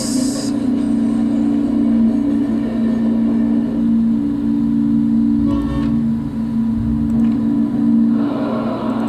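Oil trains rumble along the rails in the railway simulation game OpenLoco: a steady, loud low hum of rolling wagons continues throughout, with a few brief bursts of rattling noise.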